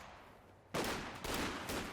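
Rifle and machine-gun fire from infantry battles in Company of Heroes 2 break out abruptly in a loud, dense burst after a quiet moment, with a second volley following as crackling shots continue.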